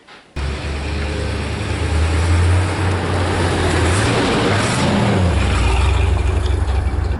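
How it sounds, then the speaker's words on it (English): A 1978 C3 Corvette Stingray starts moving on a test drive, its engine droning loud and close inside the cabin, with low rumble rising and shifting in pitch as it accelerates. "welcome to the test drive of the C3 Corvette"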